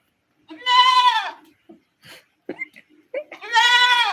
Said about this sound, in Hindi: ये देखो हमारा बकरी।